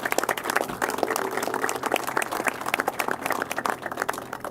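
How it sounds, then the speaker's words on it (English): A round of applause for staff at a public transit announcement event, a steady wash of many hands clapping from a sizable crowd throughout, continuous and fairly even in loudness. "they deserve a round of applause for this as well"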